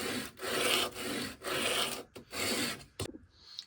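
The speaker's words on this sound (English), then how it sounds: "I'm going to be grinding the bevel of the blade and getting rid of all the scratches and pit marks" An antique Stanley #8 jointer plane blade has its bevel ground in steady close strokes, a harsh rasping scrape in rhythmic bursts separated by short pauses, with a few quick lighter passes at the end.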